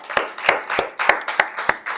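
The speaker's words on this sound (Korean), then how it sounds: "우리 하나님께 감사의 박수 한번 올려드립시다" Congregation in a Korean Full Gospel church clapping in thanks to God during Sunday worship; loud, close, rhythmic claps landing in a steady beat about three times a second.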